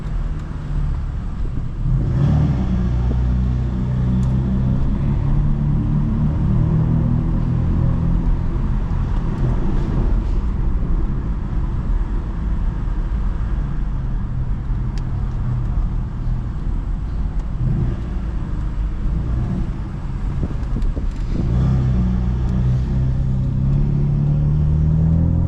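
A BMW F82 M4 cruises into a parking garage, its engine a steady, loud low rumble throughout with a few brief swells as the throttle is pressed; no talking.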